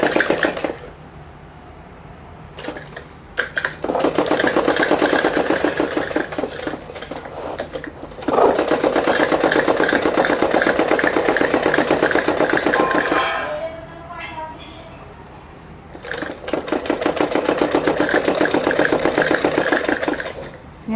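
A sewing machine stitches a Patiala salwar in long running bursts separated by short pauses, loud and close.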